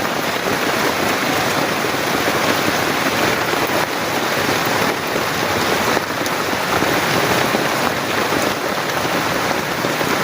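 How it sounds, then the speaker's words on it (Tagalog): Heavy rain during severe flooding pours steadily in a dense, hissing wash, drumming hard on surfaces without letting up and with no voices. "Sobrang lakas na po talaga ng ulan."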